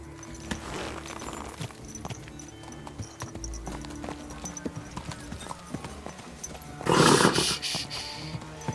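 Horse hooves clip-clop steadily at a walk in a video game, Kingdom Come: Deliverance 2, with a louder burst of movement near the end and a faint voice at times.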